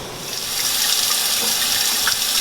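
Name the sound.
boiling water draining from fiddleheads into colander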